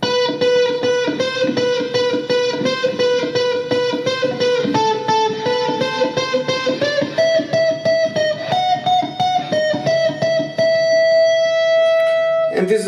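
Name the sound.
guitar tapping neoclassical etude melody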